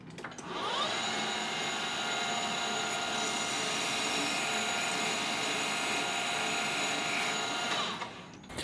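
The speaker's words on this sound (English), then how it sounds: "once we flip it around and clamp on this machine section, we will machine all the wobbliness out of it" A lathe machines a plasma speaker electrode blank, taking out its wobble in a steady, loud, unbroken whir and grind. The noise holds close and even for several seconds before tapering off at the end.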